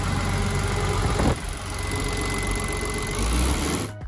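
A Vogele Super 3000-2 road paving machine with a 400-horsepower engine runs in a steady, loud, continuous mechanical drone, heard close and alone with no voices.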